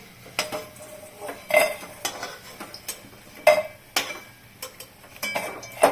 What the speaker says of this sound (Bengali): এখন আমি তুলে নেব